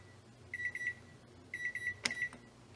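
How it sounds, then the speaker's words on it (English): A kitchen timer goes off while homemade tofu is being made, giving two clusters of bright, evenly spaced beeps about a second apart, followed by a sharp click, over quiet room noise. "So timer just went off"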